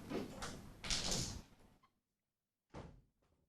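A door is pulled shut amid a burst of rustling and handling noise, then silence, followed by a second shorter knock or thud of the door settling; moderately loud and close.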